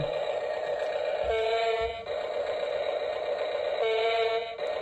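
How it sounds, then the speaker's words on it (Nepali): An EE toy RC wheel loader sounds its electronic horn, a steady, loud, tonal honk held for several seconds with a brief break and a second blast, close to the microphone with no talking. "म तपाईलाई हर्न बजाएर सुनाउँछु"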